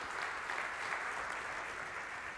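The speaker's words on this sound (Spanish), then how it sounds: "Le das aplauso fuerte" Church congregation applause during a Sunday sermon, heard as a faint, even wash of many hands clapping at a distance. It stays steady through the brief moment with no other clear sounds.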